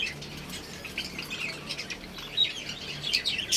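Lovebirds chirp and tweet in quick, high bursts, fairly faint against a soft background hum.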